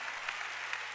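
Korean church congregation clapping their hands during a sermon, a brief, steady wash of clapping heard from some distance, fairly soft and continuous.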